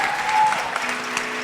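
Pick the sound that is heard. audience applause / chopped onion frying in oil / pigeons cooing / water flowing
audience applause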